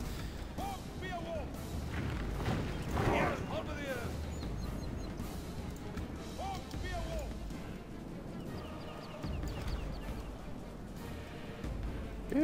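Crossbow volleys from enemy pavise crossbowmen in the Medieval 2 Total War video game, dense clattering battle noise with repeated bursts and impacts, someone talking over it throughout.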